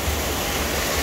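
Water rushing into the buckets of a water wheel, a steady, full roar of flowing water with a wash of noise across the whole short stretch.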